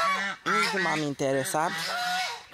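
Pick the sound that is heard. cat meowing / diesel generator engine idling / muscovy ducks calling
muscovy ducks calling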